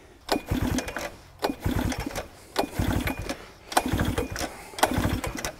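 A small petrol engine on a Harbor Freight Tail Gator being cranked repeatedly, five or six short bursts of chugging turnover separated by brief pauses, close and fairly loud, never settling into a steady run.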